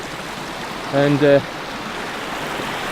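Small waterfalls in a stream in Carding Mill Valley, Shropshire, a steady close rush of water that continues under a brief spoken word.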